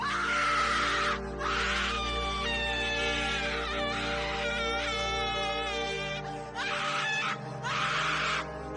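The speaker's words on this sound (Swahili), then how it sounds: "Saladini alipiga kelele ya uchungu" A drawn-out, wailing scream of pain from a character in a Swahili horror audio drama, loud and anguished, rising and breaking in strained cries over a sustained low background drone.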